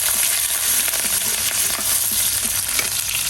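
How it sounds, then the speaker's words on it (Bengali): Chopped garlic, onion and green chili stirred in a frying pan while cooking magur catfish, a loud continuous close sizzle with faint scraping of the spoon, no talk. "এখন রসুন কুচি দিয়ে দেবো, পেঁয়াজ কুচি দিয়ে দেবো, কাঁচামরিচ। একটু নাড়া দেবো একটু।"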